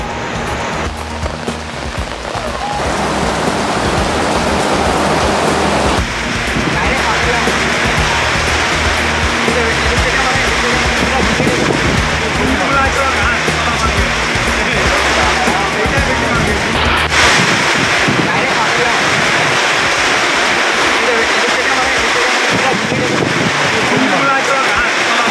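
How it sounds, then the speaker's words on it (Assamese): Heavy, unbroken rain across Assam after flooding: a dense, steady roar of falling water that holds loud and even throughout, with a voice talking underneath. "পুৱাৰ ভাগৰে পৰা নেৰানেপেৰা বৰষুণ সৃষ্টি হৈছে ৰাজ্যৰ বিভিন্ন প্ৰান্তত।"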